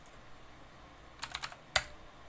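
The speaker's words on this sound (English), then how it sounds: "And now I'm typing a bunch of things on the server side" Quick bursts of typing on a computer keyboard: a cluster of four crisp clicks followed by one louder keystroke, close and isolated, with no talk.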